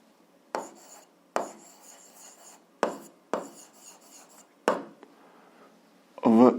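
Pen or chalk writing out an algebra problem, a series of short scratchy strokes in separated bursts, close and fairly quiet, with a brief sharper sound at the end.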